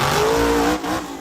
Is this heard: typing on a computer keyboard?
no